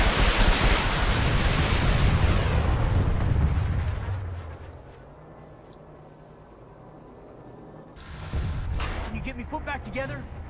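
Gunfire rattles in the video game Planetside 2, with loud bursts of shooting and explosions that ease off and then return, mixed with game noise and a player talking.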